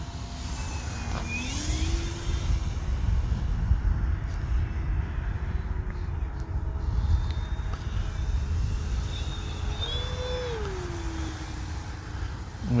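An FMS P-47 Razorback radio-controlled model warplane flying outdoors, its electric motor whining and rising in pitch as it passes and loops, moderately distant over steady wind noise, with no talking.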